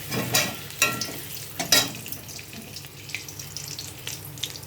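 Two cardamom pods, two cloves and two cinnamon sticks hit hot ghee for mixed fried rice, giving three sharp crackling sizzle bursts that settle into a steady low frying hiss.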